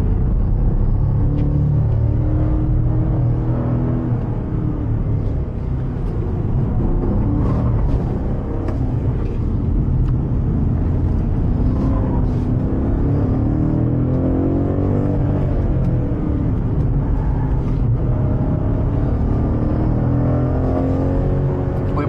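A powerful car's engine roars continuously at partial throttle on a racetrack, a loud, steady low rumble with rising and falling revs, up close from inside the car.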